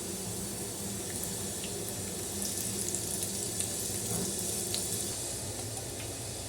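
Raisins frying in hot ghee for rice payasam give a steady, dense sizzle and crackle that holds at a constant level throughout, close and continuous with no voices.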